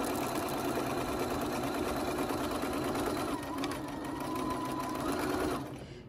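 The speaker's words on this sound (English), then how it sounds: "I'm going to backstitch. Just kind of where those seams are too." Sewing machine stitching back and forth over the seams of a crochet panel bag, a fast steady whirring with short pauses in direction, fairly quiet and close, winding down near the end.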